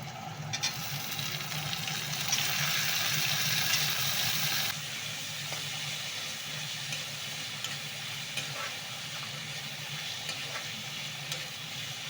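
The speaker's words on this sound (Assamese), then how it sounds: "পিঁয়াজ জলকীয়া অকণমান সময় ভাজি ল'ম কাঢ়া হোৱালৈকে" Steady, soft sizzling of onions and chilies frying in a pan, continuous and fairly quiet, with a brief louder hiss near the start.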